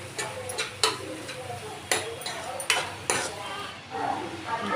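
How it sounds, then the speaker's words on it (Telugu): A spiced egg rice mixture being stirred in a pan, with a faint sizzle beneath several distinct scraping and tapping strokes of a spoon against the metal, close and moderately loud. "ఇప్పుడు మళ్ళీ ఒకసారి మిక్స్ చేసుకున్నాను."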